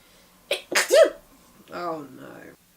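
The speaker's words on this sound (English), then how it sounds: "gonna sneeze." A single loud human sneeze bursts out near the start, with a short sharp inhale and explosive release, followed by a person talking briefly.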